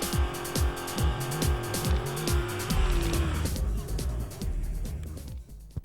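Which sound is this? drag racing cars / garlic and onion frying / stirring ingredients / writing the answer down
drag racing cars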